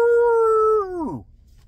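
A single drawn-out howl holds a steady pitch, then slides downward and fades out, over faint low background noise; it may be a voice imitating a howl.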